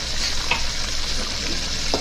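Fish frying in hot oil gives a steady, close hiss and sizzle with occasional small pops and a brief stir, with no talking.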